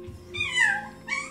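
Red or golden wheaten schnauzer puppy whimpering up close, two high, wavering whines, the first long and sliding downward, the second shorter, with soft low thumps before them.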